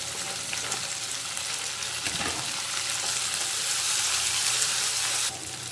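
Onion and tomato pieces fry in a pan for poha, giving a steady, close hiss and crackle that swells a little before dropping suddenly near the end.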